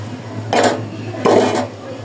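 Haleem made with beef is stirred in a cooking pot, two distinct scraping strokes of a spoon against the pot about three-quarters of a second apart over a low steady hum.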